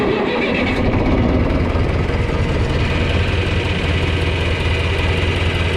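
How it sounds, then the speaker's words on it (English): An old John Deere 3010 tractor engine fires up and settles into a steady, loud idle close by, its low throbbing rumble running continuously as it warms up. "let's go ahead and start this tractor and"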